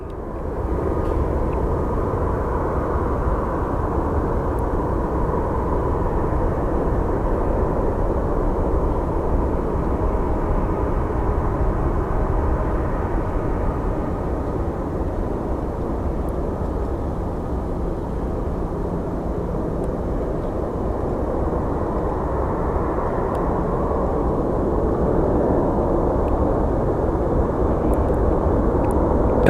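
An airliner rolls for takeoff at Phoenix Sky Harbor airport, a loud, steady engine roar that holds and swells slightly over half a minute with no talking.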